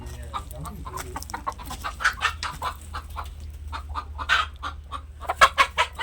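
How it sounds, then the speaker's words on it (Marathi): Broody country hens cluck repeatedly at close range on a poultry farm, with short, irregular bursts of clucking that grow louder toward the end, over a low steady background hum. "ही कोंबडी कुडूके वाटते बघा कशी वरडते"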